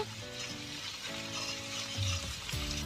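Garlic paste fries in hot oil in a pan for a fish curry, a steady close sizzle with faint scraping as it is gently stirred.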